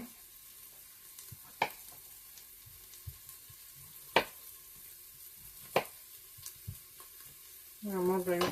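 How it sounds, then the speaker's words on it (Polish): Bacon and onion fry in a Tefal Cook4me Touch Pro multicooker pot with a soft, steady sizzle broken by a few sharp spatula clacks, and a rising electronic tone sounds at the end. "podsmaż boczek z cebulą"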